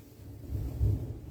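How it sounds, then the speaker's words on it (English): Low, soft rumble of distant thunder rolls through a kitchen for about a second, swelling and fading with no voices over it. "Oh, there's some Thunder, excellent."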